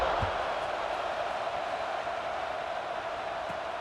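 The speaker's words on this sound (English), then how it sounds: "this crowd is feeling themselves after that last drive" A large college football stadium crowd roars continuously after a scoring drive, a dense, steady wash of cheering heard from within the stands with no breaks, and a commentator's voice faintly underneath.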